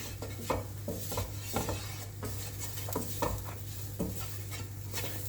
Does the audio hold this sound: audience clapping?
no